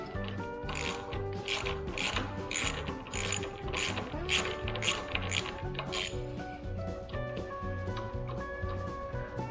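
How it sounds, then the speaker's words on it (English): Socket ratchet backing out bolts from a motorcycle exhaust bracket during a LeoVince LV-10 exhaust install, steady repeated clicking pawl strokes in quick rhythmic bursts, close and fairly loud throughout. "we're just going to remove these two bolts down here"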